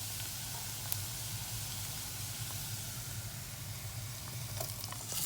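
Salmon and onions sauté in a pan, giving a soft, even sizzle and hiss close by with a few faint stirring clicks.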